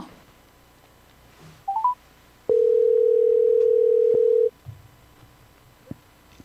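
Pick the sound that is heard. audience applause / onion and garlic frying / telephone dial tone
telephone dial tone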